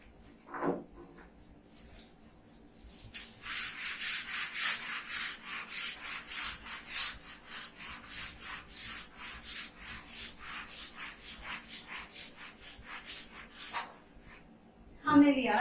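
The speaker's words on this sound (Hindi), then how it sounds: "ये पोर्शन रब कर रही हूं मैं पूरा" A board eraser rubs out writing on a board in a lecture setting, a long run of rhythmic rubbing strokes at close range, steady and repeated for many seconds.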